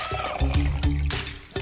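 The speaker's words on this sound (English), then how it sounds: "Start by pouring red juice in a bowl." Red juice is poured into a bowl, a close, gurgling liquid stream with a few short surges and splashes over about a second and a half.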